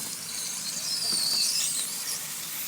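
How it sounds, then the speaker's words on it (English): Bacon grease sizzles and squeals on hot metal clamps, a steady close hiss with a high-pitched whine swelling in the middle. "listen to the screaming of the bacon as well"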